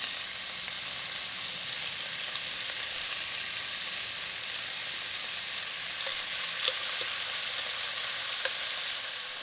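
Chunks of stew meat sear and brown in a Dutch oven, a steady hissing sizzle with faint crackles and occasional small pops, even and moderately close, alone with no talk.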